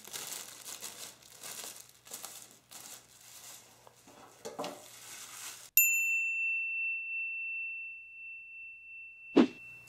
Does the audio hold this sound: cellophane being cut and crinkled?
yes